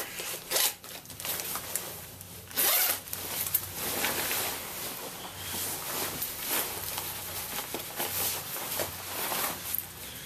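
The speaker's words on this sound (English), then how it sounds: "then undo the zipper." The zipper of a Lhotse Mountain Parka rasps open in quick, uneven pulls close to the listener, with a few brief louder rustles and no talking.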